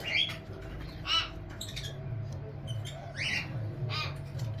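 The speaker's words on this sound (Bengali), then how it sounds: "আমাদের সেটাপে কিন্তু প্রচুর পাখি রয়েছে" Many birds in an aviary squawk and call in short bursts over a constant low background hum, some calls sharp and harsh, others fainter.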